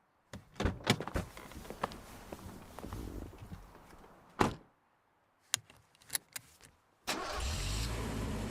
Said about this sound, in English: Ta gets into the car and heads towards Telecity.